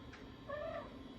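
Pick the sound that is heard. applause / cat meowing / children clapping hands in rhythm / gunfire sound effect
cat meowing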